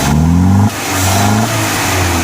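A 1985 euro-spec Mercedes 190E with the 2.0 engine and five-speed runs roughly, its loud, close engine note wavering and dipping in pitch rather than holding a smooth idle.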